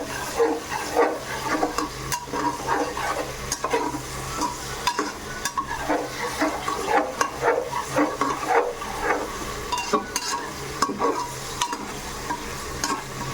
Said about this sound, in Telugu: ఎర్రగడ్డ, పచ్చిమిరపకాయ, దెన్ బిర్యానీ దినుసులు అండి బాగా ఫ్రై చేయాలి.